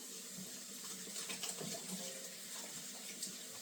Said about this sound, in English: I'm just going to rinse off my hands for a moment.